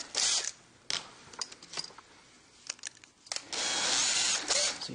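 A power drill with a dull bit bores into a suet feeder in short, stop-start bursts, then runs in a longer sustained whir, fairly close.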